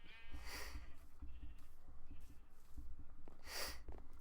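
Minecraft sheep bleat in the game world, two short, bright cries at moderate loudness over a steady bed of low rumbling background noise, with no talking.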